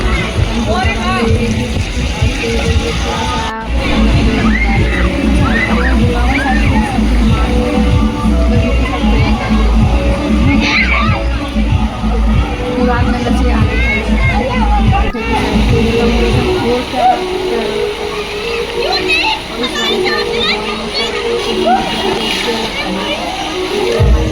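Water splashes and sloshes continuously at Drizzling Land Water Park in Ghaziabad, mixed with a busy crowd babble and nearby people talking throughout.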